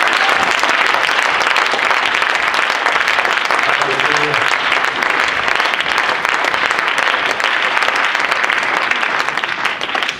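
A church congregation claps and cheers in sustained, dense applause from start to finish, loud and close, with a few voices mixed in.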